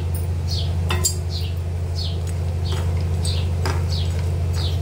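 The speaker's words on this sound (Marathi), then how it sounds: "आता कांदा काढून घेते बाजूला आणि त्याच पॅनमध्ये मी सुकं खोबरं टाकणार आहे भाजायला" Dry coconut roasting in a pan, with light scraping and clinking of a utensil stirring the pieces over a steady low hum, close and moderately loud.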